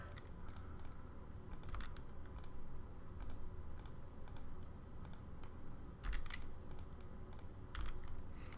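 Computer mouse and key clicks during an online Magic: The Gathering match, a string of sharp, faint, irregular clicks over a low steady background hum, no talk.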